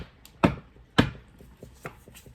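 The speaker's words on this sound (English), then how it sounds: "Let's get into the deck flip through." A heavy Rackham tarot deck being flipped through, giving a few distinct papery snaps and riffles spaced out over a couple of seconds, close and fairly quiet with no talking.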